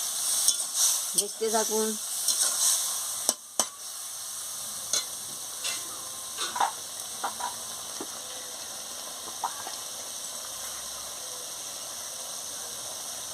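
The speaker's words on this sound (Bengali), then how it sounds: "আমি তরকারি এইটা এগুলো যে সিদ্ধ করে রেখেছিলাম আনাজগুলোকে ঢেলে দিচ্ছি, দিয়ে ভালো করে নাড়িয়ে নিচ্ছি" Boiled vegetables, pumpkin and stalks, tipped into a hot pan and stirred, a loud sizzling hiss with scraping stirs and clinks that fade to a quieter steady fry, a brief voice speaking over it.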